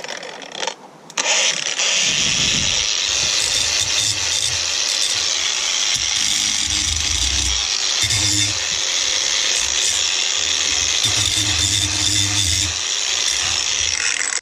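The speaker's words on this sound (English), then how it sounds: "Finish off the final bit with the angle grinder." Angle grinder cutting through metal while building a Halloween tripod from joined metal hoops, a loud continuous high whine with shifting grinding tones for most of the stretch after a brief quieter start.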